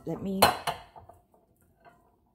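Nesting bowls handled on a counter, a sharp clatter of bowls knocking together followed by a second clink, then faint light knocks and quiet.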